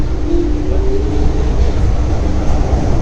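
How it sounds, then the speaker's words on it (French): A metro train rumbles steadily with loud low-frequency roar and a brief high whine near the start, continuous throughout. "Métro."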